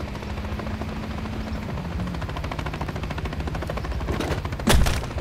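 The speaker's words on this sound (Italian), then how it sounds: "Un elicottero." Helicopter rotor thumping steadily in Call of Duty Modern Warfare 3 campaign combat, a loud continuous chop with gunfire bursts and a sharp blast near the end.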